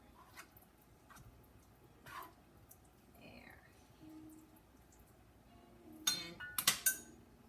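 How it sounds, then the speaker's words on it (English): A spoon stirs a finely cut prune mixture in a glass dish: soft scraping, then a quick run of sharp clinks against the bowl near the end, with faint talk in the background. "Once again, stir all that up."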